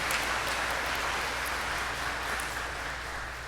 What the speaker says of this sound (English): let's give Liam a round of applause as well.